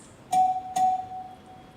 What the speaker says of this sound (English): you will get a chime of the bell at 1:45 in, and it will sound like this, JR.